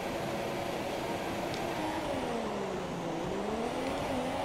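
A Formula 1 race car launches off the line in the F1 2017 video game, engine pitch climbing and dipping through quick upshifts amid a steady roar of surrounding cars on the grid.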